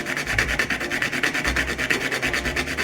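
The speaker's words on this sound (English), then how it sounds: "I'm going to be using my microplane and grate enough of this nutmeg so I have 1/2 teaspoon" Whole nutmeg rasps against a microplane in steady, rhythmic back-and-forth strokes, close and loud, about a dozen even scrapes with no talking.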